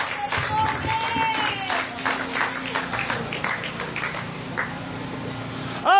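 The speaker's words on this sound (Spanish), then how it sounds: "Démosle palmas de alabanza al Señor" Congregation clapping hands in praise at an outdoor preaching service: a steady stream of brisk, overlapping claps with voices speaking and calling out over them.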